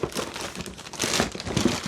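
A plastic bag crinkles and rustles continuously at close range as it is pulled off an M4-style airsoft gas blowback rifle, in short uneven crackling bursts.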